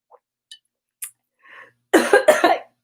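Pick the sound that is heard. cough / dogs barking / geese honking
cough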